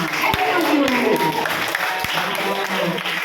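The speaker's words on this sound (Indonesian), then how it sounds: "tepuk tangan untuk dia berlima" A school audience of students claps for five classmates in a classroom, a dense ongoing patter of applause with a few sharper claps and voices talking over it.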